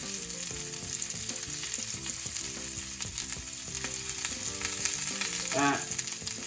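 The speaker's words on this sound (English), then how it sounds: "we're going to start with the zucchini and the red peppers. And we're going to cook these until they're starting to get soft." Zucchini and red peppers fry in bacon fat with a loud, continuous sizzle and occasional stirring scrapes. Background music plays underneath.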